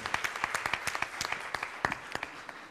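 Conference audience applauding at a round-table event on fear and prejudice, a brisk, fairly sparse patter of individual claps that is moderately loud and steady throughout, with no speech over it.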